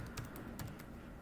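Code being typed on a computer keyboard, a short burst of several crisp keystrokes in quick, uneven rhythm, close and moderately quiet, with no speech.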